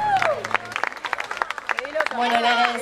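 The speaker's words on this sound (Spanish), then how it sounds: "¡Un aplauso!" Audience applause with cheering at a live performance event, dense clapping mixed with loud crowd voices and shouts throughout.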